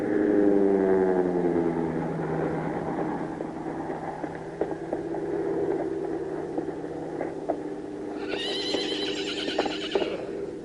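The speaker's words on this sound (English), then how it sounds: "I'll see if I can stop the horse herd." A herd of horses on a Western ranch neighs and whinnies, with hoofbeats and a steady hum beneath, then a loud high whinny rising near the end.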